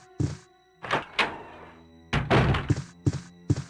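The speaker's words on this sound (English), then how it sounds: "he heard the door back to the balcony close" A balcony door swings shut in an audiobook sound effect. Several distinct thunks and knocks come close and clear, with a sharper double knock at the end.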